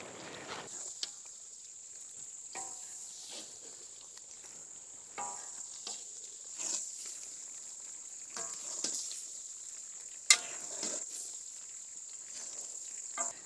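Chicken masala frying in ghee in a kadai produces a thin, steady high sizzle, broken by soft scraping stirs and one sharp clink of a utensil against the pan.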